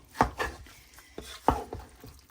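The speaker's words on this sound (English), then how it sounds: "And now what you want to do is stir this together really well." Chili mix of tomatoes and meat stirred in a pot, giving a few distinct scraping, clunking strokes of the spoon against the pot at an uneven rhythm, close and fairly clear, with no talking.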